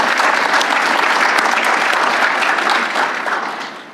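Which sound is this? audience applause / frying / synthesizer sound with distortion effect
audience applause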